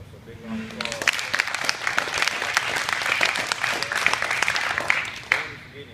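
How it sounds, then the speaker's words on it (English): An indoor crowd at an Alvarez BJJ jiu-jitsu gym in Arlington, Texas, applauds new purple belts with dense, steady clapping that swells slightly in the middle and then fades. "So big round of applause."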